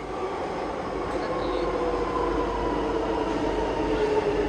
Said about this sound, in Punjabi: ਲਓ ਵੀ ਮਿੱਤਰੋ ਮੈਟਰੋ ਆਉਂਦੀ ਦੇਖੋ ਹੁਣ